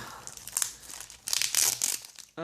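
Sticky tape crinkles and rips in several short tearing bursts as it is peeled off a parcel, close and fairly loud, ending with a brief squeaky pull.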